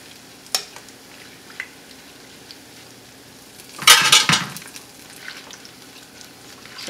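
Small Nigerian bean fritters (akara) frying in hot oil, soft sizzling under a few light clinks, then a brief loud burst of stirring and scraping in the pan before settling back to quiet frying.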